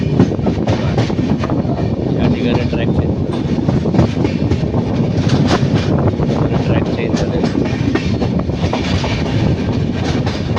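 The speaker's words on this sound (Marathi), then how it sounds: "ट्रेन बघा कशी ट्रॅक चेंज करते" A train rumbles steadily along the tracks as it switches tracks on the Konkan railway during the monsoon, loud and close, with rhythmic wheel clatter and a constant low roar throughout.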